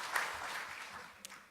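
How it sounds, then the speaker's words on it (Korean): A brief burst of audience applause at a policy conference on the fourth industrial revolution in the National Assembly members' office building, an even wash of clapping from a moderate crowd that tapers off quickly. "네, 박수 좀 주시죠."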